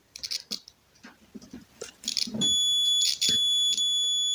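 A multimeter's continuity buzzer sounds a steady, piercing high tone while a refrigerator thermostat's terminals are tested, after a few seconds of clicks and handling noise close by.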